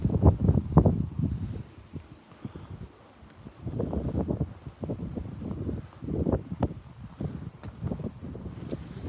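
Gusty wind buffets the microphone up high outdoors, rising and falling in rough low rumbling bursts with brief lulls between strong gusts.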